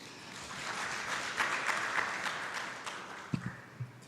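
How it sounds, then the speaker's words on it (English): A conference audience claps together, the applause swelling for a couple of seconds and then thinning out into scattered claps. "I would request that we all clap for ourselves."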